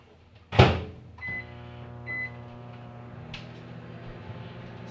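A microwave oven heats a spoon: a loud thump opens it, then a steady humming drone with a buzzing tone runs throughout, broken by a couple of short bumps.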